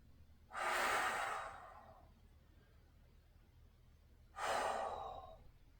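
Two slow, deep breaths during a golf core and flexibility workout, each a soft breathy rush that swells and then fades, spaced a few seconds apart and heard close and quiet, with no talking.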